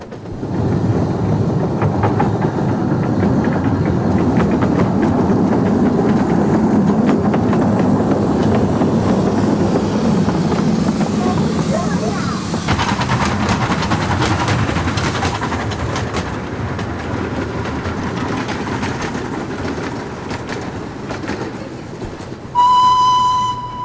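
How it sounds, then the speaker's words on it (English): A small 15-inch gauge steam locomotive on a miniature railway in northern England rumbles steadily past with rhythmic wheel clatter on the rails, and a brief whistle sounds near the end. "In marked contrast is a 15-inch gauge locomotive"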